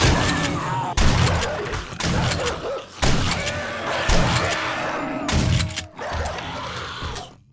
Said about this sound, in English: Oh, the damn shotgun.